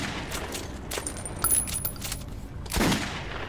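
Pistol shots ring out in the Metro Redux video game: a handful of sharp, close reports spread across a few seconds, with the loudest blasts near the middle and the end, over low background noise.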